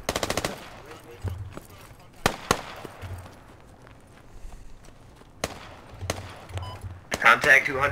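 Gunfire in the Squad Ops military shooter game: sharp cracks scattered across the moment, with a rapid automatic burst near the end and quieter background rumble between shots.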